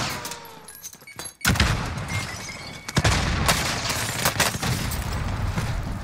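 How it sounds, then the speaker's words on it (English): Gunfire in the video game Call of Duty Warzone, a few heavy booming shots and sharp cracks over a rumbling battlefield ambience, with a quieter stretch before the loud bursts begin. "And there was another person shooting at me."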